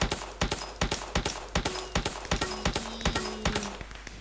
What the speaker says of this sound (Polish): O, konik, taki słodki.